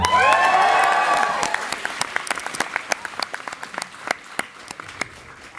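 A comedy show audience bursts into loud applause with some cheering, the clapping thinning out over several seconds into scattered individual claps.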